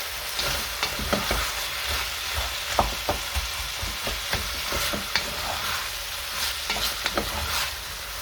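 Onions, peppers and tomatoes fry in a pot for a paprika beef stew, sizzling steadily while a spoon scrapes and stirs with irregular clicks and knocks, close and continuous with no talking.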